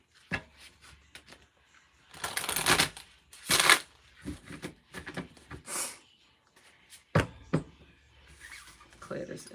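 Someone shuffles a shaman oracle card deck in several bursts of riffling and rustling cards, with short clicks and taps between them. The sound is close and fairly quiet, and a brief break of breath or voice comes midway.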